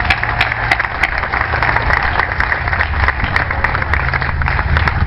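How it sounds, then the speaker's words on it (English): A crowd applauds Eli's Cheesecake at the Illinois state bicentennial celebration in Springfield, with dense, sustained clapping at an even level throughout and a low hum running underneath. "Let's give Eli Cheesecake a round of applause"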